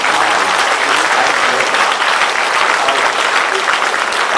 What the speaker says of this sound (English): One big round applause.